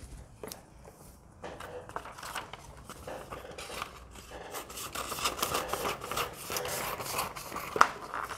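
Scissors cut through fabric along a dress pattern at the back neckline, giving steady rasping, rubbing snips that build slightly louder over several seconds, close by with no talking.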